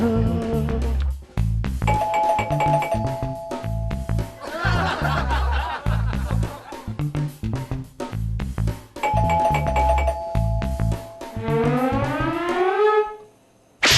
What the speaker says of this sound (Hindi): तो इतनी घंटी क्यों बजा रहा था?